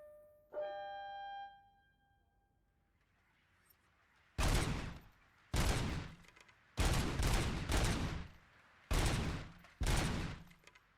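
Heavy gunshots on a shooting range in RoboCop: Rogue City ring out after a chiming tone, then come as a series of loud, close blasts in short bursts with brief gaps between them.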